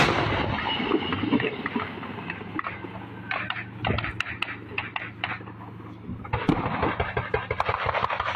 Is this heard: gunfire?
yes